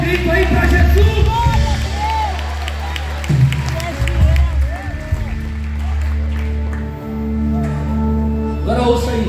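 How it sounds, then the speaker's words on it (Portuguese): A church congregation applauds and shouts in praise, loud clapping mixed with whoops and raised voices that surge, dip briefly, then swell again, with music underneath. "aplauda Ele, celebra Ele, dê um grito aí para Jesus"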